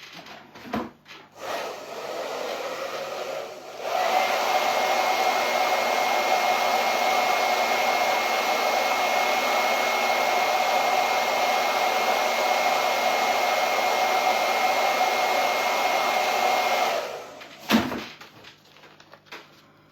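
A hair dryer blows on white paint drying on an autumn craft, running as a loud, steady whoosh with a thin whine for about fifteen seconds after a short lower-pitched start, then cutting off, with handling clicks on either side.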